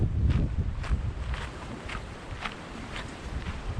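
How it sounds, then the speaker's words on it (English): Strong wind from Hurricane Beryl buffets the microphone in the Cayman Islands near mangroves, a steady low roar with gusty swells and a few faint rustles, no talking. "the wind has definitely picked up a lot"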